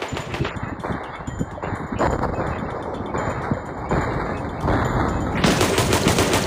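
Rapid bursts of gunfire in the Melon Playground sandbox game, dense crackling volleys firing nonstop at a steady, loud level, with a sharper, brighter stretch toward the end.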